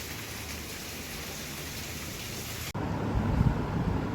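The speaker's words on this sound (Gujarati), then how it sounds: "જો ત્યાંથી વરસાદ વરાવીને આવ્યા તો અહીંયા શરૂ થઈ ગયો છે." Steady rain hisses throughout. Partway through, the sound changes abruptly to a closer, heavier patter with a low rumble underneath.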